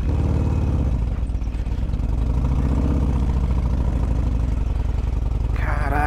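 A motorcycle engine idles with a steady low rumble while the bike is bogged deep in soft ground on an old Argentina–Chile border route. The sound is loud and close, with no clear speech over it.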